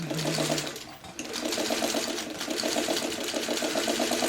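A sewing machine back stitching around an applique circle, a close, steady rapid mechanical chatter with a brief pause near the start before it resumes.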